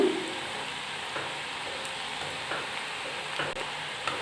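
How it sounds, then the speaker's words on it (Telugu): Chakodilu, crisp ring-shaped rice-flour snacks, fry in hot oil over a high flame, giving a steady, dense sizzle that holds at an even level throughout, with a few soft bubbling pops and light clinks on top and no talking. "ఈ చెకోడీలు మనకు గోల్డెన్ కలర్లో వచ్చేంత వరకు బాగా కాల్చుకుంటే మనకు క్రిస్పీనెస్ కూడా వస్తుంది."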